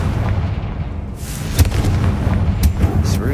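The Confringo explosive blast spell in Hogwarts Legacy, sharp booming impacts over a low rumbling background, with two distinct cracks landing about a second apart.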